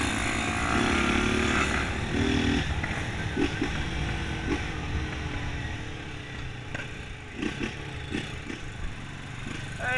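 Several loud motorcycles ride through city traffic, their engines droning and revving continuously with other traffic noise around, moderately close.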